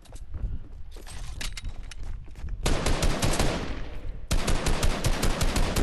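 Rapid bursts of video game gunfire crack out in dense, overlapping volleys throughout, loud and close, with brief shifts in intensity between automatic strings.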